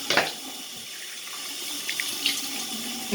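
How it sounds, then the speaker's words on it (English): A bathroom water tap runs while a face is rinsed after shaving, a continuous close hiss of flowing water with a few splashes. "give your face a nice good rinse"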